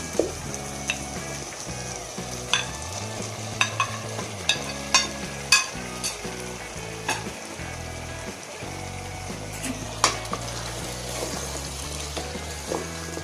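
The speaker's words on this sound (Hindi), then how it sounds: "दोनों को इकट्ठा ही भून लेंगे।" Taro root and chicken frying together in a pan, a steady close sizzle with repeated scraping strokes and clinks of the spoon as they are stirred, no talking.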